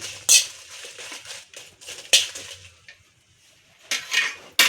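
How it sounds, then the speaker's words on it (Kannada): Chillies frying on slow heat in a pan, mostly heard as a few sharp metallic clinks and scrapes of a spoon against the pan over a faint background, close and alone with no talking. "ಫಸ್ಟ್ ನಾನು ಇವಾಗ ಸ್ವಲ್ಪ ಮೆಣಸನ್ನು ಫ್ರೈ ಮಾಡ್ತಾ ಇದ್ದೇನೆ"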